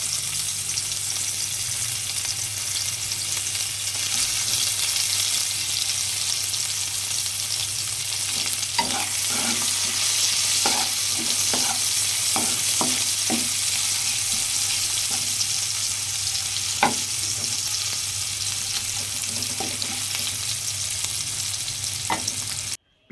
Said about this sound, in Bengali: তারপর ওই তেলেই দিয়ে দেবো একটা পেঁয়াজ কুচি।